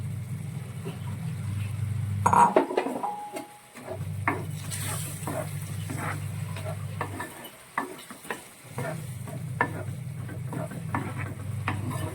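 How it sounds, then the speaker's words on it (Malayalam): Bitter gourd pickle with ground roasted mustard, fenugreek and dried chilli is stirred in a pan, giving repeated scraping strokes and soft sizzling over a steady low stove hum. "പാവയ്ക്കയും കൂടി ഇട്ട് നന്നായിട്ട് നമുക്കൊന്ന് മിക്സ് ചെയ്യാം"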